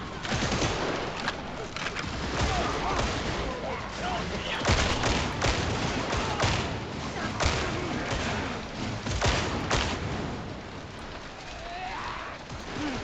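Gunfire crackles in a video game fight area, with dense rattling bursts and thuds layered throughout, sometimes clustering into rapid volleys, while players talk over the constant din.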